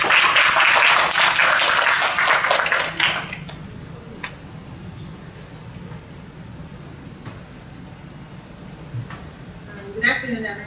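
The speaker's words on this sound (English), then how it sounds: "So please give a big applause to Ms." An audience at a seminar on nano-enabled sustainable materials claps loudly and densely for about three seconds. The applause then fades to a quiet room with faint shuffles and a few soft knocks.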